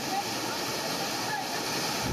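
Floodwater rushes along a street in Thane during heavy monsoon rain, a steady, fairly faint broadband flow with no breaks and no talk over it.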